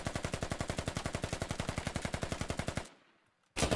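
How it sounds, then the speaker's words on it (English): Rapid automatic gunfire in the video game Squad, shots fired up through a floor, a long steady burst of evenly spaced loud reports that stops abruptly, a short near-silent gap, then another burst begins. "Shots come up through the floor."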